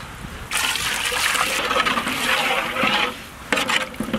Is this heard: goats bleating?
no